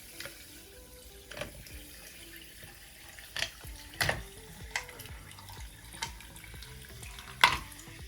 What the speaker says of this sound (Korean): 얼음 채웠고 그럼 탄산수를 한번 부어서 에이를 만들어 볼게요.